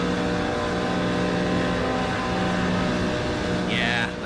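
Race car engine from the iRacing sim racing game at Daytona, a steady, loud, high-pitched drone held at high revs throughout with no talking.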